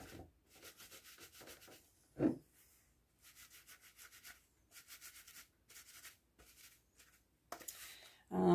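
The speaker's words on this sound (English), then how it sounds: "on the top part here, you can just scrub it a little bit" A curly human hair topper is scrubbed by hand in a series of rapid rhythmic rubbing bursts separated by short pauses, close and soft, with a few brief spoken sounds between strokes.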